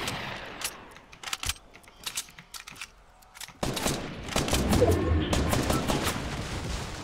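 Gunfire from an online shooter video game, with sharp sniper-rifle cracks among scattered shots, first sparse and isolated, then a denser, louder stretch of firing in the second half.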